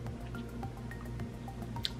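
Water drips from a freshly washed face in scattered, faint single drops with small squishy ticks, irregularly spaced over a steady low background hum.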